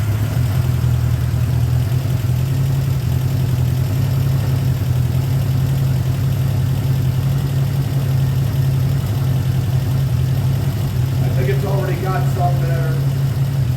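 A cold 1979 Honda GL1000 Goldwing motorcycle engine idles loudly and steadily throughout with a deep, even low rumble, and a voice talks briefly near the end.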